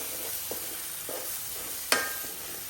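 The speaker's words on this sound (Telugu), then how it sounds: "ఇంత బాగా వేగించుకోవాలండి" Spices and chilli powder frying in a pan for a curry, with a faint steady sizzle, a few soft stirring scrapes and one sharper clink, close but quiet.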